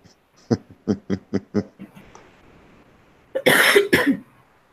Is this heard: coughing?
yes